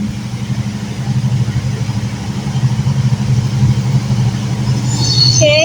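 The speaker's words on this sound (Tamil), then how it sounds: "காய்ஸ், ட்ரெயின் வந்துருச்சு." A train arriving at a station gives a steady, heavy low rumble that stays close and loud throughout, with a faint higher chirp near the end.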